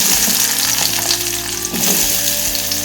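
Chopped onions frying in hot oil in a pan, a close, loud continuous sizzle with occasional stirring scrapes throughout.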